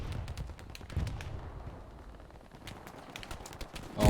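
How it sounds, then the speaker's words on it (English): Gunfire sounds in a multiplayer war video game, with rapid, scattered cracks and pops from some distance over a low rumble. A louder burst lands at the end. "heard the gunshots behind"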